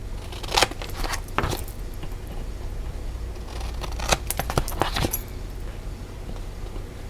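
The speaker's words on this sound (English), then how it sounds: "And I'm going to go ahead and cut off my miters, my corners." Scissors snip through the taped chipboard corners of a handmade journal cover, a few sharp close cuts in short clusters, with quieter handling rustle between them.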